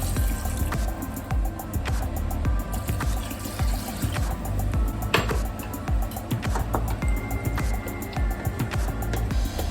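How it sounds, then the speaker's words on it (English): Three cups of water pour over goat meat in a cooking pot, a close, bubbling, splashing trickle that runs throughout with uneven gurgles and small clatters, no talking. "I'll add 3 cups of water."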